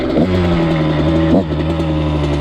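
A 125 cc CR two-stroke motorcycle engine revs hard and steadily while the rider holds a wheelie, its pitch dipping briefly and climbing again, loud and close with no talking.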